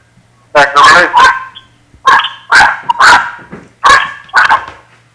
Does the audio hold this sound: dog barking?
yes